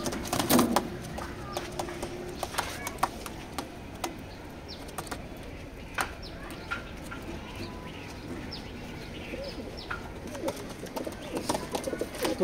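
Pigeons in a loft give soft, repeated coos, with wing flutters and scattered scuffs and taps around them at close range.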